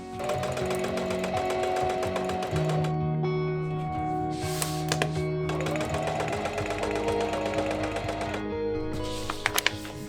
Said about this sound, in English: I then take the back panel and add the shoulder straps with a ton of stitches.